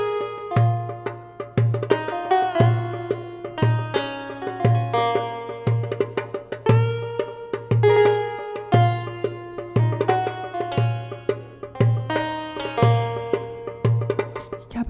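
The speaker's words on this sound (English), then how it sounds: "all I did before the stream was write this cool little dutar line." A plucked dutar melody in a Persian scale rides over a steady repeating low pulse, bright picked notes cascading in quick runs, close and clear with no talking.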